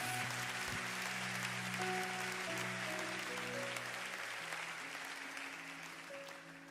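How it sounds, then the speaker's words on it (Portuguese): A church congregation claps together in a sustained wash of applause while sustained musical tones hold underneath, the clapping fairly distant and soft, slowly fading toward the end. "aplauda bem forte o Senhor Jesus"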